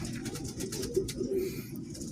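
Low, throaty cooing from pigeons close by, continuous and rolling, with soft rustling overhead and no talking.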